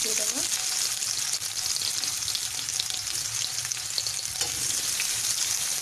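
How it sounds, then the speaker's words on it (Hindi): Onions fry in hot oil in a kadai for a fish curry, producing a loud, continuous crackling sizzle close up with occasional stirring movement. "देखु ये तेल गरम एबे प्याज पकईद।"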